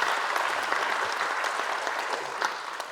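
A conference audience applauds steadily and densely at the close of a three-day biodiversity debate event, filling the room with continuous clapping that holds near full loudness throughout.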